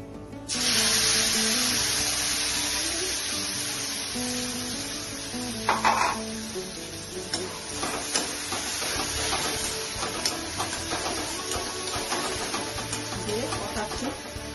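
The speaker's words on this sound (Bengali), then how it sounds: "নিয়ে যে মশলাটা পেস্ট করেছিলাম এটা এখন দিয়ে দিচ্ছি।" Ground spice paste added to a pan of hot oil already holding fried whole spices and cinnamon, a sudden loud sizzle that keeps up steadily, with spoon scrapes and stirring clinks over it.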